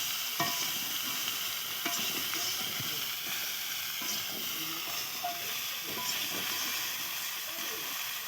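Fish curry masala with salt and sugar being stirred in a pan over steady frying hiss, with repeated scraping strokes of the spatula at irregular intervals; close, with no clear talk.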